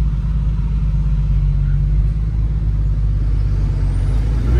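A 1995 Porsche 911 Carrera 4 (993) with 37,000 miles drives under wide-open throttle, a loud, steady, dense engine rumble and road roar filling the cabin with no break.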